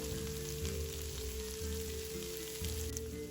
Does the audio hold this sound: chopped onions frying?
yes